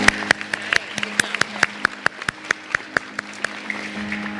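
Applause at a school academic awards ceremony, with a few sharp, distinct claps ringing out close by in an irregular rhythm over a thin background of scattered clapping from a small audience.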